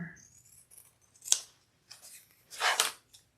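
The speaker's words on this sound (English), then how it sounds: "now I just want to cut away the exterior and the lining a little bit with my pinking shears" Pinking shears snip through fabric exterior and lining in a few short, close crunching cuts separated by brief pauses, quiet and alone.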